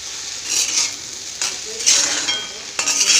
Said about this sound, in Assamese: অকণমান ল' ফ্লেমতে ভাজিম এতিয়া মই